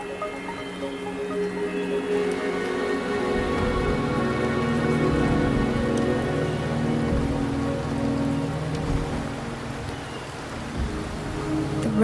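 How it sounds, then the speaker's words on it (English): Steady rain pours across surfaces in the video game Wuthering Waves, a dense, even hiss that thickens with a deeper rumble partway through and stays continuous, with no voices. "The rain is subsiding, and the sky will soon clear."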